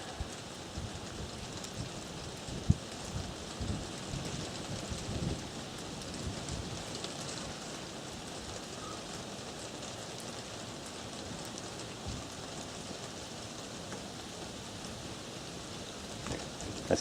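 Steady rain falls outdoors at a lakeside carp fishing spot, a dense continuous hiss of drops on surfaces throughout, with no talk and a few faint knocks.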